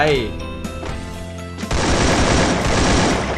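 Rapid automatic gunfire in the Free Fire battle royale game, a dense continuous burst of shots that swells louder partway through, over harmonic in-game music or engine tones at the start.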